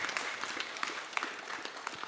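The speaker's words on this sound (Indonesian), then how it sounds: "tepuk tangan untuk kita semua" A gathering bursts into applause, a fairly quiet, distant patter of many hands with a few sharper individual claps standing out, steady through a short stretch.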